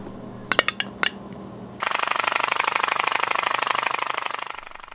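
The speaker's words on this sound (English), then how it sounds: "Even if you just blow into the pipe, it makes a noise." Small pop-pop steam boat engine with a boiler and pipes: a few sharp clinks, then a rapid steady putt-putt pulsing from blowing into the pipe, close and fairly loud, fading slightly at the end.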